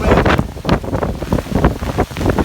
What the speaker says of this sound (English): here comes a wind gust. Bracing myself for the wind.